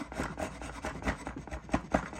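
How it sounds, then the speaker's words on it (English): A wood rasp shapes a vintage axe handle in quick, close strokes of rough scraping, about a dozen in a little over two seconds, with no voice. "What I'm using to do that is a wood rasp and a draw knife."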